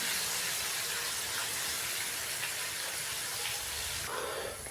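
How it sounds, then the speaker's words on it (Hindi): Whole dried red chillies fry in oil for a restaurant-style chana dal, giving a loud, continuous hiss and crackle close up that barely changes, easing slightly near the end. "साबुत लाल मिर्चें डालेंगे तकरीबन 6 से 7 अदद। थोड़ा मिक्स करेंगे और हल्का सा फ्राई कर लेंगे हम।"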